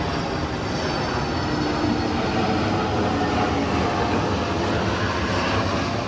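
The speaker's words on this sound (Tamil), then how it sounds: "மேலே ஃப்ளைட் போயிட்டுருக்கு சவுண்ட் கேட்கலாம்" A fixed-wing airplane flies overhead near an airport above a house on a 40-foot road in Saidapet, a loud, steady broadband engine roar that fills the whole stretch without pause or talk.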